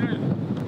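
Strong wind buffets the microphone outdoors in rough weather, a loud low rumbling roar with gusty fluctuation, brief and close.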